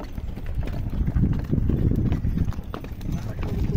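Donkey cart travelling along a road in Carnaíba, Pernambuco, its hooves clip-clopping in a steady rhythm under constant rumble and outdoor noise, with people talking throughout.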